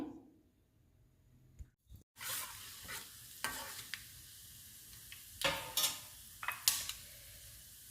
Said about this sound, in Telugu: ఇప్పుడు ఈ పప్పుని తాలింపు పెట్టుకుందాము.